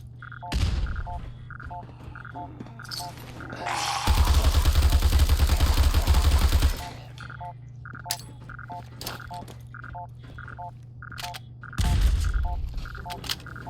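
Gunfire in the Fallout 4 video game with a horror mod, heard as a dense, loud burst of rapid shots lasting a few seconds, with shorter bursts before and after over steady game background sound.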